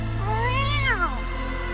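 A cat character in the video game Wuthering Waves gives one drawn-out rising and falling meow, close and clear over a steady low game hum.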